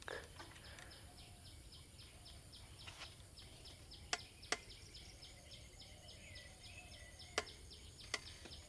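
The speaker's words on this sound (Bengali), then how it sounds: "শুনতে পাবো চতুর্দিকে কত পাখির ডাক আর কত রকমের ডাক।" Birds calling around a village, faint and distant, with a steady series of high chirps and a few sharp, brief calls standing out over a low background hum.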